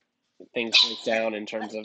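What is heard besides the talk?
dog barking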